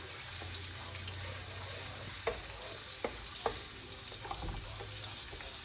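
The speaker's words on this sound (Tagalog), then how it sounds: "Ilagay na natin yung bawang." Garlic sizzles in a hot pan as chopsuey gets started, a steady close hiss of frying broken by a few sharp clinks and scrapes from stirring, with no one speaking.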